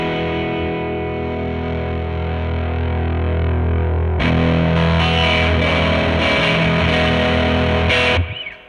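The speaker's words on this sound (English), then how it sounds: "So we have 3 overdrive sounds all blended together." Distorted electric guitar rings out with three overdrive pedal sounds blended into thick, layered overdrive, sustained chords swelling louder midway before cutting off abruptly.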